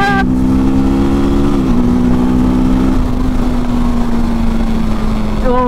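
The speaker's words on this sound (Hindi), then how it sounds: "और क्या एग्जॉस्ट नोट निकल के आता है यार, काफी ज्यादा कड़क" A 2024 TVS Apache RTR 310 motorcycle exhaust drones loudly and steadily at close range, its engine note holding at a constant pitch with a brief shift partway through.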